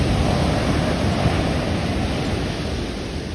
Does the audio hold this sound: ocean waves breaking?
yes